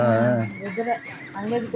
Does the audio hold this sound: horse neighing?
yes